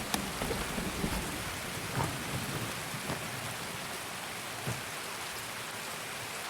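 Rain pours in the video game Escape From Tarkov, a constant broad hiss with occasional soft thuds and low rumbling like distant thunder, steady and moderately loud with no speech.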